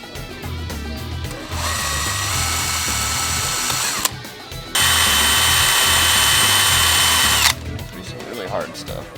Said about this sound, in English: I'm probably gonna have to use a reverser